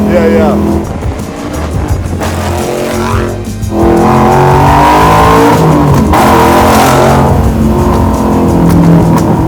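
A 750 hp supercharged Chevy Blazer on a full custom chassis revs hard and accelerates, its loud engine roar climbing in pitch with a brief dip and then pulling strongly, close by, with voices talking over it.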